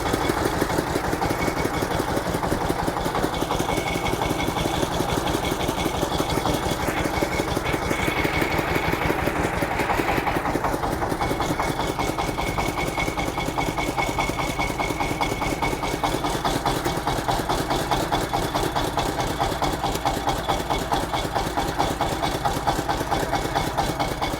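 A KENTAVR 350VR mini tractor engine idles steadily and loudly nearby, with a rough, rapid knocking pulse and mechanical vibration and no voices.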